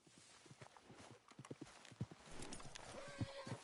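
Horses in the video game Red Dead Redemption clop along in uneven hoofbeats at moderate distance, with a brief whinny-like tone near the end; the sound is faint overall.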